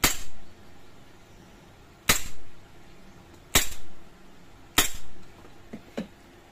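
HFC M92 silver airsoft pistol fired on semi-auto, four sharp, evenly spaced snapping shots about 1.3 seconds apart, close and loud, followed by a couple of faint clicks.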